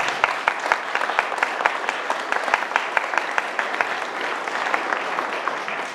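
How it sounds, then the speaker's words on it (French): Scattered applause at a French political meeting, a modest audience clapping in a loose, uneven rhythm with individual claps distinct and fairly close. "On peut l'applaudir."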